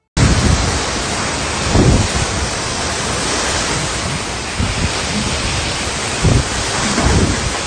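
Heavy rain from Super Typhoon Matmo roars as a dense, continuous wash of noise over Hainan, with occasional low rumbling surges of thunder or surf beneath it.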